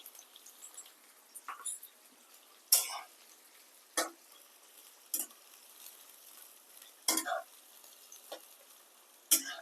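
Onions frying with shahi jeera in a pan for mutton keema, a faint steady sizzle broken by intermittent scraping stirs and soft clicks, with no talking.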